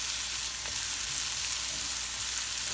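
Mushrooms sizzle in a pan for a spinach and mushroom omelette, a loud, even frying hiss that runs without a break.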